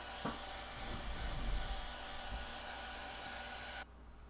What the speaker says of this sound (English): I like to warm up the area with my hair dryer